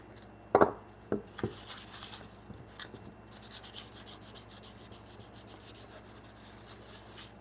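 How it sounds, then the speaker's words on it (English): Fine sandpaper rubs finish into wood grain with a continuous soft rasping, close and steady, after a few sharp knocks at the start. "The way I was taught was to apply it with fine sandpaper, so I think that helps it get into the grain."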